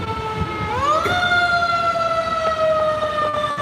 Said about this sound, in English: Oh no, it's a fire truck.